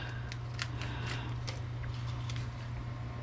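Several quick scissor snips cut through a thin dry yeast packet, close up, over a steady low hum.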